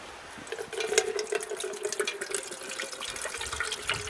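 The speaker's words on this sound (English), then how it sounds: "I'm spilling it all over the picnic table" Water pouring and splashing onto an outdoor picnic table at a winter campsite, a steady close trickle with small spatters lasting several seconds, no voices.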